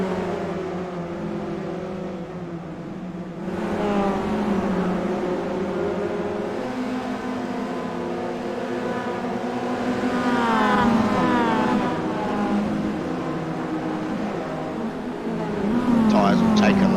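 Roadster-class race cars lapping a circuit, engines whining and rising in pitch as they pass, heard under steady commentary from an announcer.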